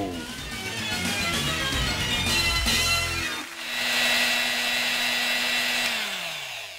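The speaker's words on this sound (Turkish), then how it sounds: "Bu bir mikser sesi" A kitchen mixer whirs loudly and steadily, its motor pitch shifting partway through as the speed changes, with a continuous close buzzing drone and no talk.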